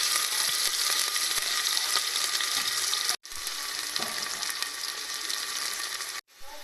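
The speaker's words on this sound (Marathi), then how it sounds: "आता यानं टाकते मी ह्यात कांदा हिरवी मिरची आणि लसूण" Onion, green chilli and garlic fry in a pan with a loud, continuous sizzle that cuts out briefly twice, with no voices.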